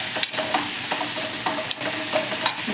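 Garlic and chilli-garlic paste sautéing in a pan, a steady low sizzle with a spoon scraping and stirring through it in regular strokes, close and even, with no voices.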